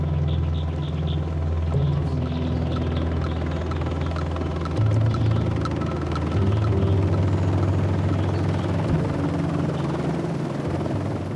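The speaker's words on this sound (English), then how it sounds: "Now we can call a helicopter, which can make it all the way here" Loud, continuous helicopter rotor thrum with a deep steady rumble in remote Madagascar, close by and unbroken throughout, no voices.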